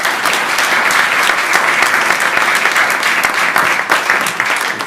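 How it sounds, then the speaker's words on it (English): An audience at a town council meeting gives a steady, loud round of applause for a skate park donor, the owner of Blue Tile Skateboards, with dense clapping throughout. "Come on, folks, give him a round of applause."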